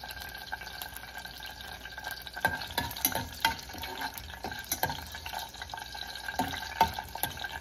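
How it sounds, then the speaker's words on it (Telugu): Dried red chillies fry in hot oil in a white pan, a steady crackling sizzle with sharp pops and scraping stirs scattered throughout, fairly quiet and close with no talking. "ఇప్పుడు నూనె కాగింది. ఎండుమిరపకాయలు వేసుకుందాం."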